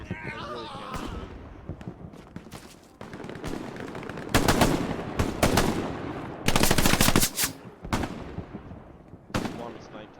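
Fortnite gunfire on Oceanic servers, rapid automatic bursts and sharp single shots crackling in loud clusters, with a player talking over parts of the action.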